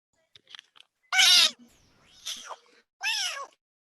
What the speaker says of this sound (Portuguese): Tem um gato aí?